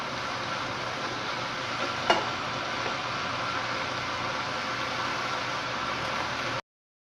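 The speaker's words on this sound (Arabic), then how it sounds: "Donc je vais laisser la viande cuire pendant une dizaine de minutes" Meat seasoned with basil, paprika, cumin and salt for tacos sizzles steadily in a pan, a dense even hiss with one brief clink partway through and no voices.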